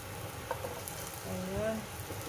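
A little cooking oil heats in a pan for a tomato, pumpkin and clam soup, giving a steady, close, low sizzle with a few faint clinks.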